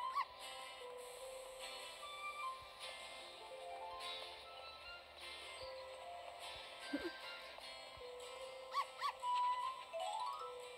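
A dog in the video game Stray Cat Doors 2 barks, yips and whimpers in short bursts over a bed of game music and chimes.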